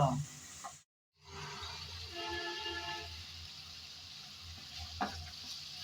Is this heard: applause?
no